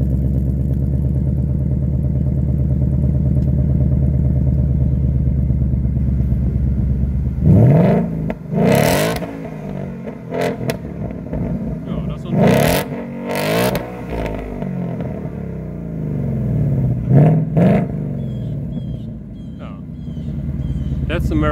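Engine of a new 2022 Ford Mustang Mach 1 idling with a steady low rumble, then revved several times in loud, close bursts that surge and drop back to idle.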